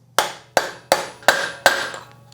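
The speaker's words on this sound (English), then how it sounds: "So now we can start smacking in the outer wheel bearing" Five sharp metallic hammer blows at a steady, even pace driving in an outer wheel bearing on an 80 Series Land Cruiser front axle, each ringing briefly before the next; close and loud with no talking.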